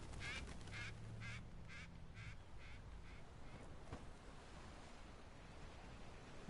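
A bird in the video game Uncharted 4 gives a run of about eight rhythmic, quacking, duck-like calls over about two seconds, then falls silent, leaving a steady wash of ambient background noise.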